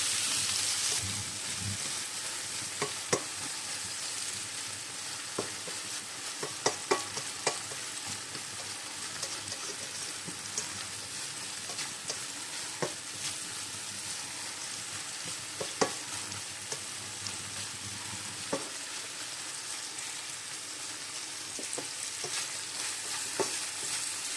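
Tomatoes frying in cooking margarine for a breakfast omelette, a continuous close sizzle broken by scattered sharp pops and light spatula taps throughout, with no talking.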